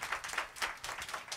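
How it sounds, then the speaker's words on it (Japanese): Applause from the audience at a live jazz club show, a short burst of light, fairly quiet clapping from a small crowd. "拍手"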